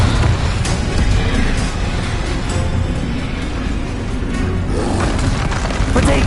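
Fire spell explosions in the Hogwarts Legacy video game, a dense continuous roar of booming blasts and rumbling bursts, loud and close with no clear gaps.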